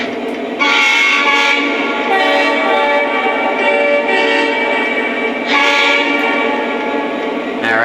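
A Lionel SD70ACE model locomotive sounds its horn in loud, close, sustained chords, with short breaks between the blasts.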